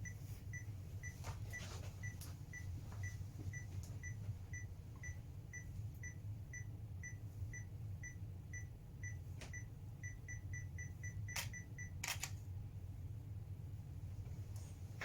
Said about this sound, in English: Set up the timer. Okay, timer's good, 12 seconds.